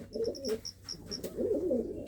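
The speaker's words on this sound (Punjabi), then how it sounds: "ਕਾਲਾ ਚੀਨਾ ਕਬੂਤਰ ਆ" A black Chinese pigeon coos in low, rolling throaty phrases close by, with a few short higher chirps at the start and little else around.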